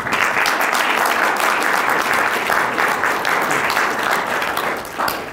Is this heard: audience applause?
yes